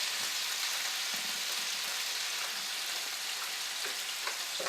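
Shrimp frying in a pan after being seasoned with salt, a steady, soft crackling hiss that continues quietly and evenly throughout.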